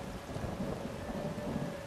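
Steady rain with a low rumble of thunder in the fantasy game Enderal, a dense continuous downpour heard alone at a constant level.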